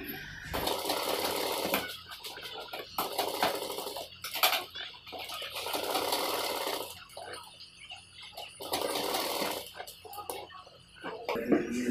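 A sewing machine stitches trouser fabric in bursts of rapid mechanical rattling, stopping and starting several times, close and fairly loud with brief pauses between runs.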